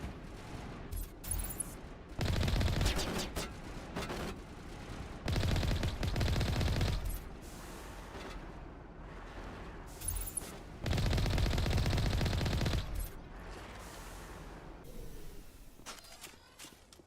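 Gunfire in the Mass Effect video game, loud rapid automatic bursts repeating in several clusters with quieter gaps of ambience between them.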